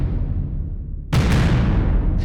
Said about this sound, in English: Like an explosion.